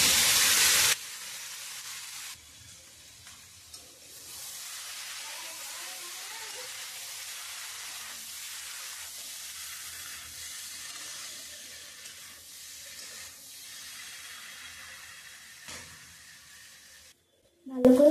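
Peas and potatoes frying in a pan for mator ghugni, a steady soft sizzle with occasional stirring scrapes, close and continuous throughout, ending in a brief louder knock.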